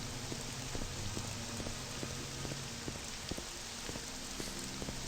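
Quiet, steady rainfall hisses through the fantasy world of Morrowind, a constant wash of drops under faint recurring tonal blips and no talking.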